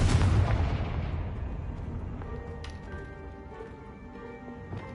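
A fire-blast spell goes off in Hogwarts Legacy, a loud booming burst at the start that decays into a rumbling tail with faint game sounds after.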